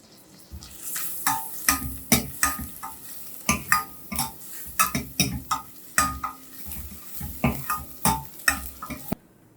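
Crushed garlic and ginger sauté in a pan for drumstick-leaf soup, with steady frying crackle broken by repeated scraping stir strokes that clack in a quick, irregular rhythm, close and fairly loud, with no voices.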